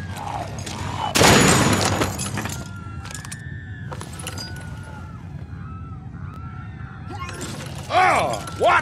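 A single loud gunshot cracks out in a tense standoff in the video game The Walking Dead: 400 Days, followed by a fading ring, scattered clattering and voices calling out around it.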